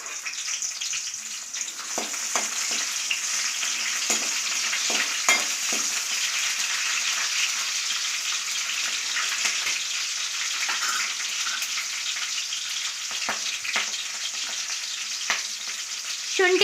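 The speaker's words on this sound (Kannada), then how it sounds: "ಎಣ್ಣೆ ಕಾದಿದೆ. ಸೊ ಇವಾಗ ನಾನು ಹಸಿರು ಮೆಣಸಿನ್ಕಾಯಿ ಹಾಕ್ಕೊತಿದ್ದೀನಿ." Green chillies sizzling in hot oil in a pan, with a continuous loud crackling fry and occasional stirring clicks. No one talks.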